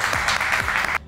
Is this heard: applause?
yes